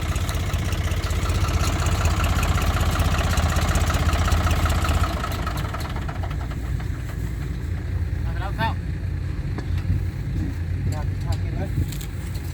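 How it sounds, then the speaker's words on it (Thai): A vehicle engine idles as a loud, steady mid-pitched drone for about five seconds, then drops to a softer, lingering rumble while people talk nearby. "ดับเครื่องเลย"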